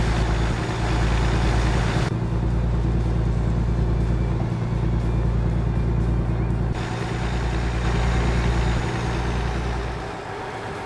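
A heavy truck cruising on an interstate at night in American Truck Simulator, hauling a trailer of cars and trucks, with a steady low engine drone throughout and faint periodic road thumps, no talking.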